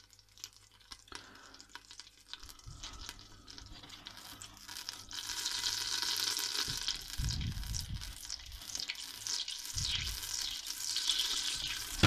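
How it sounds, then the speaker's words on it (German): Butter slowly browning in a pot for a quick garlic soup, a soft steady sizzle with faint crackles that grows denser and louder partway through, with no voices. "Ich werde die Butter jetzt leicht anbräunen."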